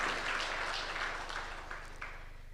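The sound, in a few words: audience applause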